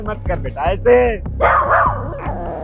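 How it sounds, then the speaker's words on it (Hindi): A dog barks and yips close by in a short, excited burst of several sharp calls, with a person speaking over and between the barks. "अरे अरे कुत्ते कहाँ से आ गए"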